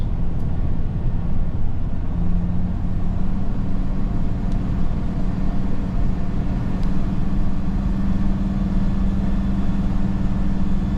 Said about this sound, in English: I have a lot of engine noise up here